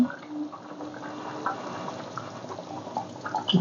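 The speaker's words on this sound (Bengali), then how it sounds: "যাই একটু ফুটুক টকবক করে" A home-cooked meat curry with ghee, made from a mother's recipe, bubbles steadily as it boils in the pot, giving a continuous soft simmering texture with small pops, and no one speaks.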